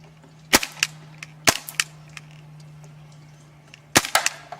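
Well G196 Mauser C96 CO2 airsoft pistol firing BBs at egg cartons, with three sharp reports, each trailed by a quick smack or rattle, spaced a few seconds apart over a steady low hum.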